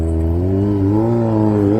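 Loud, close engine of a Kawasaki ZX4R motorcycle revving at a red light in traffic, a steady droning roar with rising and falling pitch sustained throughout.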